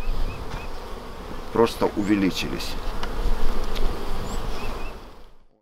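Honey bees swarm around a hive frame in a spring apiary, producing a steady close buzzing drone with individual bees passing near, while someone talks briefly over it.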